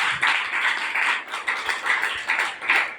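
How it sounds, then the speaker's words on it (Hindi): A seminar audience at a business plan event claps together in a dense, lively burst of applause lasting a few seconds, with no talking over it. "तो साथियों एक बार जोरदार ताली धमाकेदार।"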